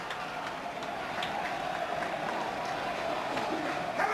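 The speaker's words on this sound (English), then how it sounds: "Not very often the fans in the Lyndhurst applaud the linesman" Football crowd in the Lyndhurst stand at a Plymouth Argyle versus Wycombe Wanderers match, 1998/99, applauding the linesman: a steady, moderately distant wash of clapping and crowd noise rising slightly toward the end.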